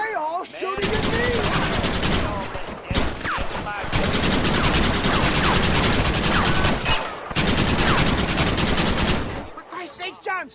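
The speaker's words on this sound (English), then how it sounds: "Why are they all shooting at me?" Red Dead Redemption on Xbox 360: dense, sustained gunfire from several shooters, loud and close, with rapid overlapping shots filling most of the stretch and brief pauses between volleys, voices audible underneath.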